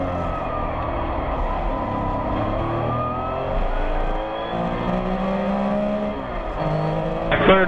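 Porsche race cars running at speed up the start-finish straight during a vintage race, a loud continuous engine roar with rising and falling pitch as the cars pass close by.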